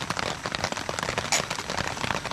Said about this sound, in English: you might not be able to hear me all that well with the raindrops dropping on the tarp